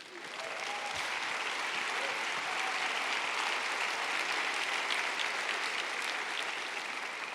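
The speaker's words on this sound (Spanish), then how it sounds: "Si va a aplaudir, aplauda." A church congregation applauds during a sermon, with steady, dense clapping that holds at an even loud level throughout and no voices over it.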